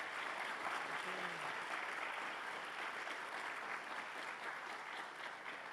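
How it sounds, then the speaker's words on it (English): Steady applause from an event audience thanking a panel of speakers, sustained and fairly even for several seconds with a faint voice briefly underneath. "let's give a round of applause to thank our amazing panelists"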